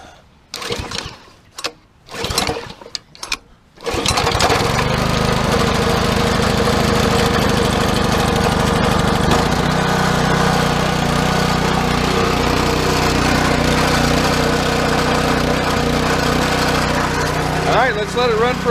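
A gasoline engine on an old pressure washer is started after a few rattling pulls, then settles into a loud, steady running drone that continues unchanged, with someone talking briefly at the start.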